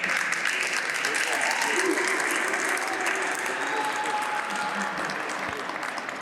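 Steady applause from an outdoor crowd at a Black History Month flag raising ceremony, continuous and full for the whole stretch, with voices and cheering mingled in the clapping.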